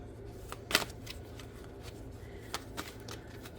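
Tarot cards shuffled by hand up close, a quiet series of soft riffling flicks and taps with one sharper snap near the start.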